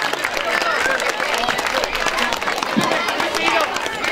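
Applause for the teachers at a Turkish school night event, with a crowd clapping steadily under loud speech and babble that runs throughout.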